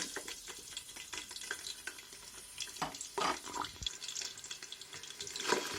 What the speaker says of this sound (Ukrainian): Смажимо цибульку приблизно 5 хвилин, поки вона не побіліє